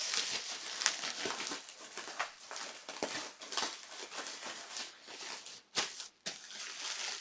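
Crinkly plastic and paper packaging being torn and rustled while unboxing a Moog Taurus MkIII bass pedal synthesizer, a steady close crackling with sharper snaps throughout, no talk.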